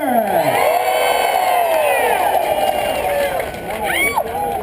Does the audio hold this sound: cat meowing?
no